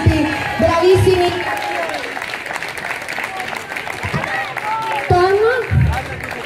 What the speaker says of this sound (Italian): faccio un altro applauso ancora per i testi, bravissimi.